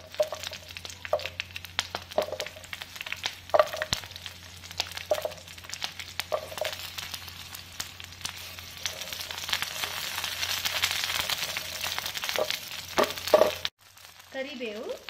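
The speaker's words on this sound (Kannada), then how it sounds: "ಮೊದಲಿಗೆ ಮೆಣಸಿನ್ಕಾಯಿನ ಹುರ್ಕೊಳ್ಳೋಣ" Green chillies fry in about a spoonful of hot oil, giving a steady crackling sizzle with sharp pops. The sizzle swells toward the end, then cuts off abruptly, and a brief quieter stir or clatter follows.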